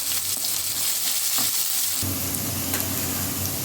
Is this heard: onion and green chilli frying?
yes